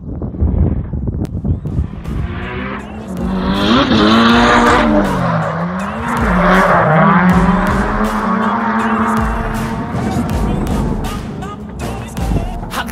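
Drift cars at a drifting championship at Croix-en-Ternois scream near and loud while tires squeal in long, wavering skids through a corner, with engine pitch rising and falling over a steady roar.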